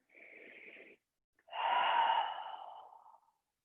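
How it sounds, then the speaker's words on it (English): Slow, deep breaths during a hip-focused yoga practice: a short soft inhale, a pause, then a longer, louder exhale that trails off, close and quiet with no talk. "I'm going to take 2 more breaths here."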